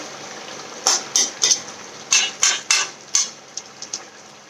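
A metal lid clattering as it is set back onto a cooking pot of labra mixed vegetables, a series of sharp, close clinks and taps followed by a few fainter knocks.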